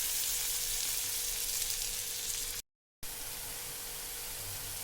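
Cumin seeds and green chilli sizzle in melted butter in a kadhai, a steady dense frying hiss that drops out briefly partway through and then resumes.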